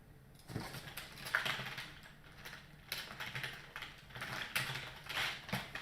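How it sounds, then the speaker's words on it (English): Fast, soft typing on a computer keyboard patters along unevenly, key clicks bunching into bursts with brief pauses, fairly close and moderately quiet. "Is that typing?"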